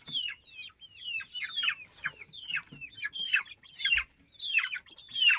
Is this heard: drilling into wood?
no